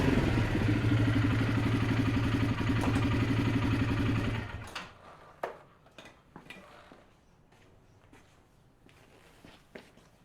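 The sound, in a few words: Kymco Mongoose 270 engine during a test ride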